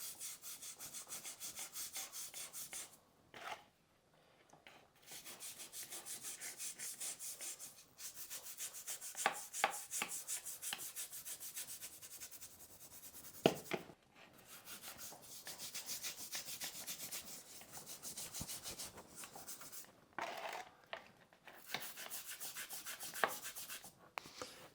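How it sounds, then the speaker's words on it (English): An old toothbrush loaded with cleaning paste scrubs a rusty tool in steady back-and-forth strokes, a close, dry rasping that runs in bursts with a few brief pauses and no talking. "we get a bit of the paste and just simply scrub on"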